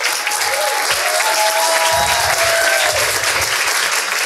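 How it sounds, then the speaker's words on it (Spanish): A comedy show audience claps for a comedian, a dense, close burst of applause that swells in the middle and keeps going through to the end, with faint murmurs in the crowd. "Gracias, gracias por ese aplauso."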